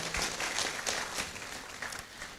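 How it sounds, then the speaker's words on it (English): Audience at a university white coat ceremony applauding, a brief, fairly quiet burst of many hands clapping with a few sharper claps standing out. "I think we should give them a round of applause for that."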